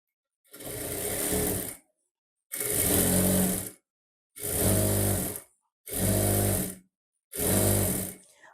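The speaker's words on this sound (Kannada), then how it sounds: "ಹಾಫ್ ಇಂಚ್ ಮಾರ್ಜಿನಲ್ಲೇ ಸ್ಟಿಚಿಂಗನ್ನು ಮಾಡಿ" A sewing machine stitching blouse fabric with lining runs in five separate bursts of about a second each, a close, steady whirring hum broken by short silent pauses.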